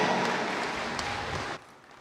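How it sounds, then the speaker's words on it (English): Crowd applause and cheering at a youth livestock showmanship show for the 18-year-old class, a dense, steady roar of clapping that cuts off sharply near the end. "That round of applause, that cheer."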